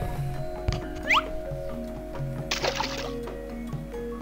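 Water splashes and sloshes into a pot in the Pink Panther: Hokus Pocus Pink video game, a short wet burst near the middle, with small squeaky cartoon effects and a steady background drone around it.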